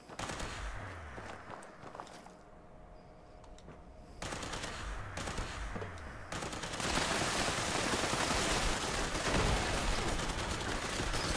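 Automated gun turrets firing in the video game Fallout 76, dense rapid bursts of gunfire that build and grow louder and more continuous toward the end, with no talk.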